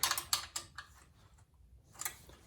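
A bolt is tightened down on a Givi Monokey plate fitted to a 2023 Honda Trail 125, giving a few sharp ratcheting clicks close by, then a pause and another short burst of clicks.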